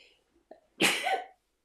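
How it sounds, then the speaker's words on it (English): A single close, sharp sneeze follows a brief intake of breath, then silence. "Excuse me for that sneeze."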